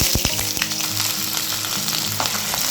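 Onions, green chillies and curry leaves frying in oil for a tomato curry, a loud, steady sizzle with crackles and scraping stirs, no voices.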